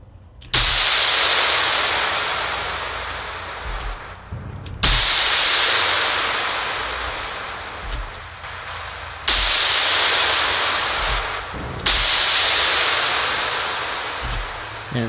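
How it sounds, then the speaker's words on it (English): Harsh, clipped distortion with reverb placed first in the chain in FL Studio. Four loud noisy bursts each start abruptly and decay slowly, filling the whole clip. "the clipping is more obvious when the reverb is placed first"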